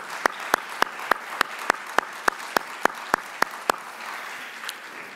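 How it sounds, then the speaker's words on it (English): Applause at a sustainable-technology conference for the chairs and moderators, heard as a run of single sharp claps in an even rhythm, about a dozen, with faint crowd noise under them before the claps stop. "I just want to give a round of applause to these folks"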